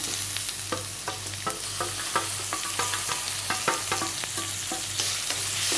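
Tomatoes added to softened onions frying in a pan for dhaba-style anda masala, sizzling steadily while a spoon scrapes and stirs in a regular rhythm, close and uninterrupted by talk.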